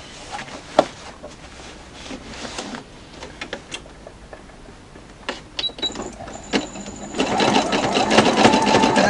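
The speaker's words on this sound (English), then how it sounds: "I'm using zigzag stitch here to hold it, so it will hold better than just straight stitch" Sewing machine running a zigzag stitch through quilt fabric, close mechanical whirring with ticks and clicks, speeding up into a louder continuous run toward the end.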